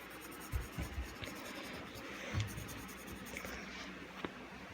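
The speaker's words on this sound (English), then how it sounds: "we're gonna want to color it in, just go from hard to light all around your turtle drawing" A pencil colors in a turtle drawing on paper, working from hard to light pressure, with soft continuous scratchy strokes and a few sharper taps, close and quiet with no talking.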